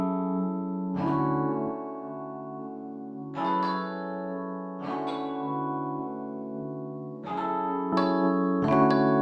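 A Rhodes electric piano from Keyscape plays a slow melody of sustained chords struck about every one to two seconds, each decaying softly into a spacious reverb ambience, with no voices.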